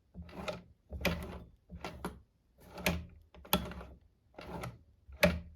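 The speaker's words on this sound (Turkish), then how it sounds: "Şimdi bir dikiş denemesi yapacağım. Tabii henüz motorunu yapmadığımız için pedalı da yok. Elle çevirerek deneyeceğim olanı." A Soviet Chayka 132M sewing machine, turned by hand for a test stitch, clatters in six separate mechanical bursts of clicking and rattling with short pauses between them, close and alone.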